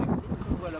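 Steady wind on a Himalayan mountain summit near Manaslu buffets the microphone with a low, rumbling roar that swells and fades unevenly.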